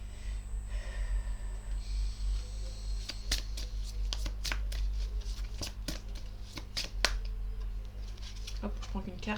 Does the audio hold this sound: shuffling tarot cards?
yes